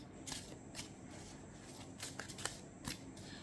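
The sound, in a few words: shuffling and drawing a card from an inner child card deck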